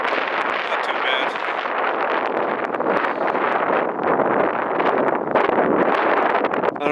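Strong wind buffets a canoe out on big open water, a steady, loud rushing roar that batters the microphone with gusts swelling toward the end.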